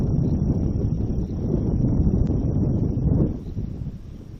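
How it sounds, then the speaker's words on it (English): Wind gusting on a warm evening camping trip beside a creek, a loud, continuous low rumble buffeting the microphone, easing slightly near the end. "The only thing that's spoiling it really is the wind."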